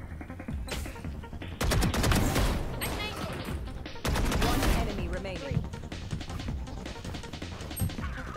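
Rapid gunfire from a Valorant match, dense bursts of automatic shots and impacts that surge loud around two and four seconds, with excited voices talking over the action.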